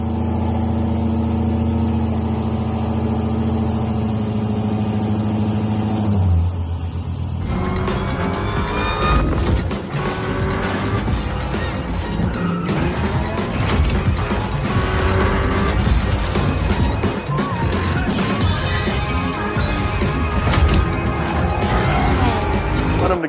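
A Hellcat car engine revs into a loud, sustained roar with rising and falling pitch, close by and dominant, following a few seconds of steadier tonal sound.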